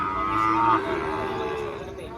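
A cow gives one long, loud moo up close at a busy cattle market for Shahiwal bulls, its low voice holding steady for about two seconds over a murmur of the crowd.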